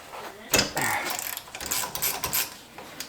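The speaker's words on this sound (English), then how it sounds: "Grab ratchet. Crank this off. It's a 7mm." A hand ratchet cranks loose a 7mm bolt on a Ford Focus RS during brake work, giving bursts of close, clicking pawl ratchets in uneven strokes over about three seconds, with no talk.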